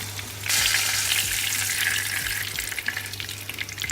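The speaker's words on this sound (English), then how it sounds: "we just keep frying them for a little bit more" Steady crackling sizzle of food frying in a pan, close and continuous, with faint stirring clicks and a low background hum.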